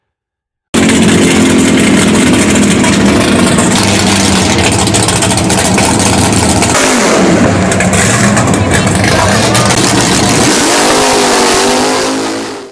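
A 1960s Dodge HEMI factory race car engine revs hard, a loud, continuous, near roar with rising and falling throttle sweeps and gear-like pitch climbs, fading slightly at the end.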